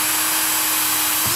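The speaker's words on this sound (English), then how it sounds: "And I'm going to drill all the way through." A hand drill bores all the way through a wooden spatula blank in a woodworking shop, a loud continuous whirring grind held steady throughout, with a slight change in pitch near the end.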